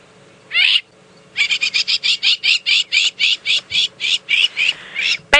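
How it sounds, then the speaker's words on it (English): Crowned lapwings, known as bush seagulls, calling on a South African sunrise safari drive: one short call, a pause, then a long run of rapid, evenly spaced shrill calls, close and loud with no talk. "You're ready to listen to the bush seagulls."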